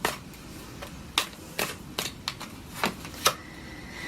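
Tarot cards being drawn and handled during a Cancer reading, with a series of soft, brief card snaps and flicks spaced irregularly over a quiet background.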